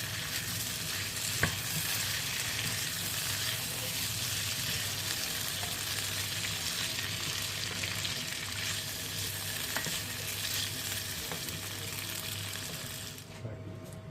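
Chicken and potatoes for a Kenyan-style dish fry in oil in a pan, a steady dense sizzle running continuously with occasional stirring clicks, close and fairly loud, with no talking.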